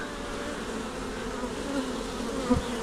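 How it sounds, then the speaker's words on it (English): Honey bees buzz at a hive entrance during a strong nectar flow, a continuous low droning hum of many insects close by, with one bee passing louder near the end, no voices. "I just sit and watch the bees for hours."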